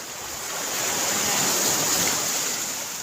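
Sea waves wash onto a beach beside farmland, a steady broadband surf roar that swells in the middle and eases off again, with some wind and no talking.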